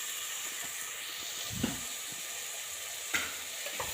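Spices are tempered in hot oil for a coconut gravy, a steady close sizzle and hiss broken by a few sharp pops and crackles.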